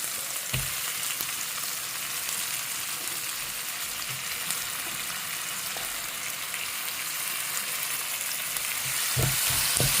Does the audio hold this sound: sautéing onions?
yes